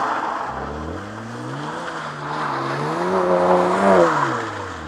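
Cars accelerating past during a drive alongside a Porsche GT3 with an open differential, engines rising and falling in pitch as they sweep by at moderate distance, with a louder pass near the end and no talking.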